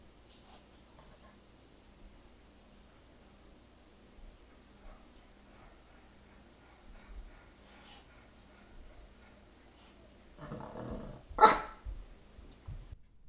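A dog gives a sudden short burst of barking with a rough growl near the end, after a long stretch of near-silence with only faint scattered noises.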